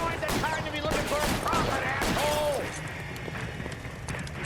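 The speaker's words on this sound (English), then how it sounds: "Why the fuck is he shooting at me?" Gunfire in the L.A. Noire video game crackles in rapid bursts of shots amid mechanical clatter, while someone talks and other voices call out over it.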